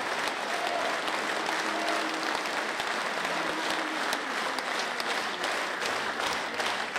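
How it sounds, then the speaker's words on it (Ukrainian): Concert hall audience at an anniversary show claps warmly and continuously, a dense, even roar of applause with faint musical tones lingering underneath. "Дякую за ваші оплески,"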